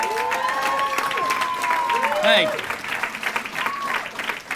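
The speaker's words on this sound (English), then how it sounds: "let's give one last applause" Gala audience applauding at a Boys & Girls Club event, a broad wash of clapping under an amplified emcee's voice and some feedback-like tones, swelling briefly midway before easing.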